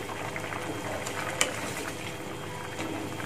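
Pieces of meat simmer in a spiced broth sweetened with palm sugar, bubbling steadily with soft gurgles and pops close by, plus one brief clink.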